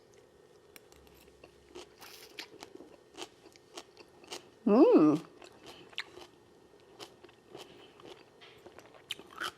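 Crisp, repeated crunching of a bite of citrusy kale ribbon salad, close to the mouth, irregular chews spread across the clip with a brief vocal exclamation in the middle.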